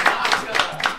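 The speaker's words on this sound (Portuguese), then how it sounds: "Palmas a ele!" Several people in a radio studio clap in a quick, rhythmic run of about four claps, fairly close and moderately loud, with a voice speaking alongside.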